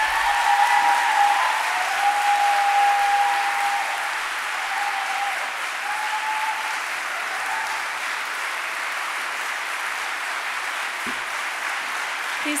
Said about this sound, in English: Please continue the warm round of applause for Rueben George.